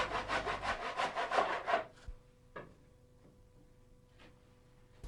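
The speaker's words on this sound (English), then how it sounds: "Always a good idea to use a tenon saw when cutting small decorative timbers like this." A tenon saw cuts a small decorative timber bead in quick, rhythmic rasping strokes for about two seconds, then a couple of light knocks and faint handling follow.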